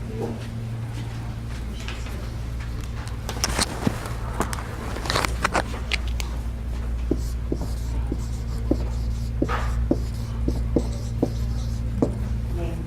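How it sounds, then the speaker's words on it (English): Someone writes on a board in a bridge club room, making irregular short scratchy strokes and taps over a steady electrical hum. There is no talking. "Let me write the name on the board for you."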